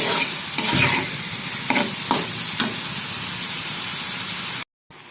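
Kochur loti (taro stolons) cooking with shrimp and coconut paste in oil over a lowered gas flame, giving a steady, close sizzle and hiss of frying with a few stirring scrapes.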